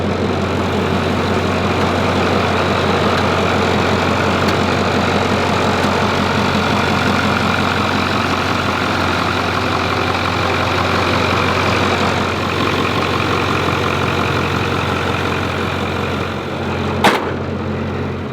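A 2010 Ford F-350 with a 6.4L diesel engine, single non-VGT turbo swap and upgraded fuel pump, idles close and loud in a steady rhythmic clatter, with a sharp click near the end.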